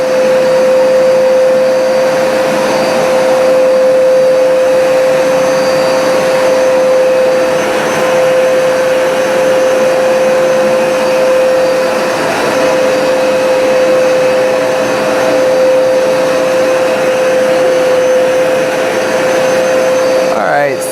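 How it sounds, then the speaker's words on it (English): A Hoover SmartWash carpet cleaner runs on carpet with a loud, steady vacuum whine and a sustained high tone, droning unbroken from start to finish. "we've sucked up just about all of the moisture we're going to suck up out of this carpet"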